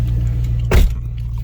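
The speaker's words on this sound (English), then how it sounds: "when this car sit too long, they don't idle real loud. It's idle real low" A Dodge Magnum SRT8 that has sat unused for a long time idles low and quiet, a steady deep hum with a short thump or clunk midway through.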